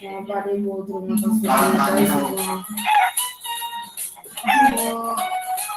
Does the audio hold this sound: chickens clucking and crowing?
yes